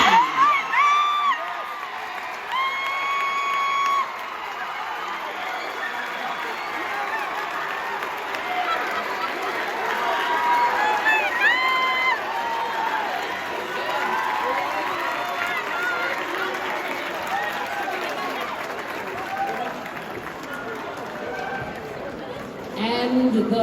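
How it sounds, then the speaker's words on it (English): A crowd at a state mixed choir championship awards announcement applauds and cheers for the state runner-up choir, a steady roar of clapping with whoops and shouts throughout, under occasional voices. "So now let's have a nice round of applause for this year's state runner-up"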